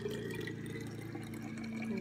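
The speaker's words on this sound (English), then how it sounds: "So I'm gonna fill it up slowly because it will bubble a little bit." Filtered water running slowly into a soap bottle, a steady close-up pour with faint bubbling that holds at an even level throughout.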